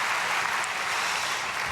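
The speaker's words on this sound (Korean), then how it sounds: "오늘 앞에 아이들 이렇게 귀하게 자리에 앉았는데 우리 박수로 축복하겠습니다." Church congregation applauding to bless the children seated at the front during a dawn prayer service, a steady dense wash of clapping that sounds fairly distant and even throughout.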